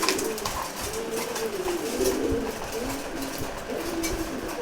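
Male pigeons at feeding time, including silver, red chequered, racer and giribaz birds, coo continuously in overlapping low rolling calls, close and steady with no talk.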